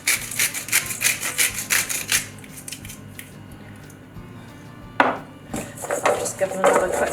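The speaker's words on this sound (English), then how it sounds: "Just give them another quick toss through." Seasoned baked vegetable chips tossed in a bowl, a run of rapid crisp rustling scrapes, then a quieter pause and a fresh burst of rattling tosses, fairly close.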